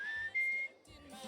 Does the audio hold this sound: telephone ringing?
no